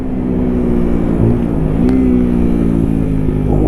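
A Sinnis Apache SMR motorcycle ridden along slow back roads, its engine droning steadily and loudly with small rises and dips in revs, heard from on the bike under a constant rush of wind.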